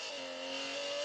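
A Lamborghini Centenario V12 revs in Real Racing 3, a sustained high engine whine holding a steady tone for a brief moment at moderate volume.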